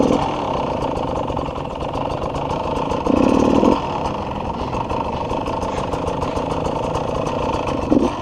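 A motorcycle engine idles roughly and unevenly up close, with a brief louder surge partway through as the choke is applied, before it sputters and dies.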